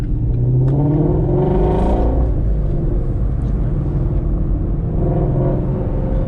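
A 2018 Ford Shelby GT350 engine revs and accelerates with a deep, loud rumble that rises and falls, steady throughout with no one speaking.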